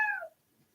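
A cat gives a single short meow, close and fairly clear, fading out within a split second in an otherwise quiet indoor room.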